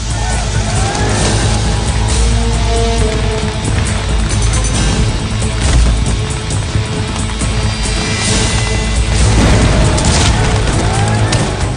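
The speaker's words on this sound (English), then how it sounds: "advance 600 yards through a barrage of enemy fire" A loud, dense barrage of cannon and gunfire from the Battle of Gettysburg, heavy booms blending into a continuous roaring rumble with no break.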